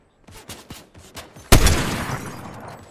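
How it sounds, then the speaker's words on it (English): Auto frenzy shotgun in Fortnite, several quick light shots followed by one loud, close blast that rings out and decays, with no speech over it. "Ooh, auto frenzy shotgun."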